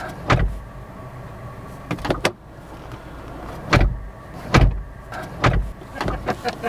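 A 2017 Dacia Duster being entered, with several sharp thumps and clunks of doors and body movement spaced across the moment, close and fairly loud against a quiet cabin hum.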